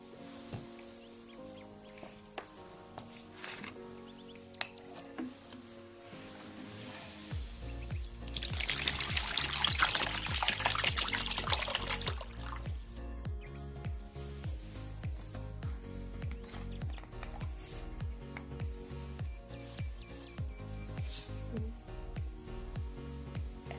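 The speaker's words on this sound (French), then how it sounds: "Donc nous allons maintenant verser l'eau là-dedans." Water poured into a small model of a flat dam for a hydroelectric demonstration, a steady splashing pour lasting several seconds, with music playing underneath throughout.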